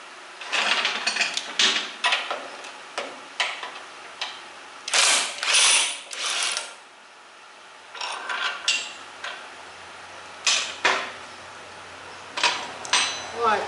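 A ratchet wrench tightens a nut on the rear end of a 1968 Mustang, with repeated close clicking bursts of pawl ratcheting in short strokes separated by brief pauses.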